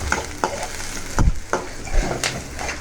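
Rice stir-fried in a pan, a low background sizzle punctuated by several distinct scraping and knocking strokes of a spatula against the pan, close and fairly loud.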